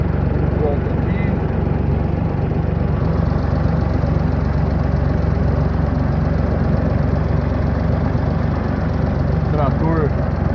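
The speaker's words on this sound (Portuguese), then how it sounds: "O trator do corte está indo ali na frente." A tractor engine runs on a farm during silage cutting, making a loud, steady, continuous drone throughout.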